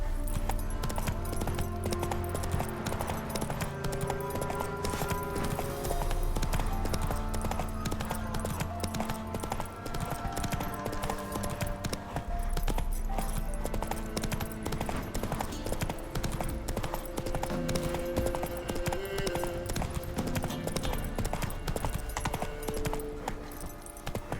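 Horse hooves clip-clopping steadily in The Witcher 3 video game, a rhythmic galloping beat running throughout over game music and ambience.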